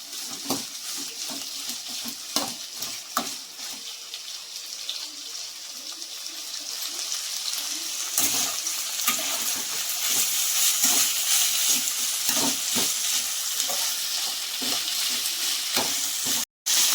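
Ivy gourd pieces sizzling steadily in a hot pan with oil, frying until their water cooks off, with scraping stirs breaking through the continuous hiss, close and fairly loud throughout.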